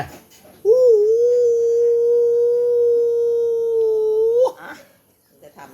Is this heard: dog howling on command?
yes